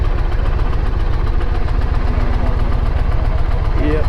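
An Indian Challenger motorcycle engine idles steadily just after starting, a loud, close, even low rumble with a rapid pulsing beat throughout and no talk over it.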